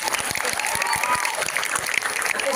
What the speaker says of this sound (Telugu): వాడి గురించి చప్పట్లు కొట్టండి.